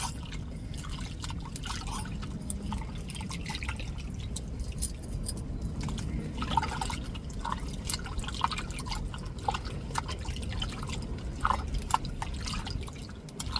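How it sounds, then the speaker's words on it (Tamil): Tamarind is squeezed and dissolved in water by hand, giving a quiet, continuous run of wet squelches, drips and trickles close by. "நம்ம புளியை கரைச்சி எடுத்துக்கிடுவோம்."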